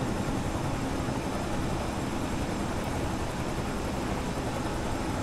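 A Bell 222B helicopter flies in Microsoft Flight Simulator, giving a steady, even rotor and turbine roar that holds constant from start to finish with no talk.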